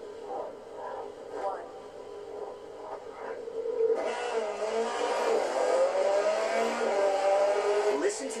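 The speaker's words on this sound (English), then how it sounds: "Listen to the engine." Mitsubishi engine revving in The Crew 2 racing game, quiet at first under talk, then a loud sustained rev with rising and falling whine for the second half.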